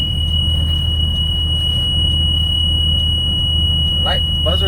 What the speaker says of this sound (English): I'm gonna check to make sure the light and the buzzard is working.